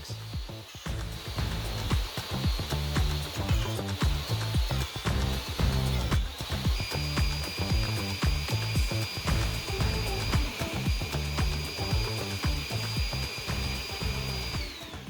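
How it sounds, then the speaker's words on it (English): A table saw cuts box joints with a sled during a test cut, its motor running loud and steady with dense rasping blade-on-wood noise throughout and a sustained whine rising partway through. "I'll make a test cut to make sure I like the box joints the sled makes."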